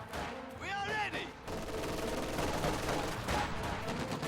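Bursts of machine-gun fire crackle through a busy WWII strategy game battle, with an MG emplacement firing at a scout car during a Soviet attack. The shots are dense and mid-distance, mixed with other battle noise and shouted voices.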